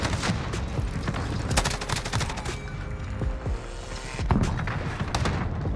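Bruen rifle firing tracer rounds in Modern Warfare: sustained automatic bursts of sharp shots, some clustered rapidly, with brief gaps between volleys and heavy thuds mixed in.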